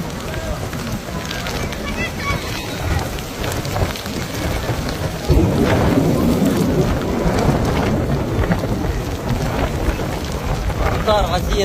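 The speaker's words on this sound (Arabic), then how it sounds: "أمطار غزيرة وهواء" Heavy rain pours down continuously in a storm in Mecca, Saudi Arabia, with gusty rumbling and a loud surge partway through; thunder-like rumble rolls under the downpour.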